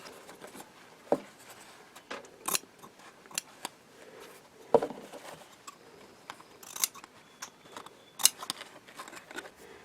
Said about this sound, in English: I cut away some of the excess fabric here to try to reduce the bulk around the top here